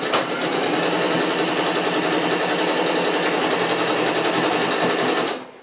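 A sewing machine runs a zigzag stitch joining two pieces of elastic, a continuous fast mechanical whirring and clatter, close and steady for about five seconds before stopping.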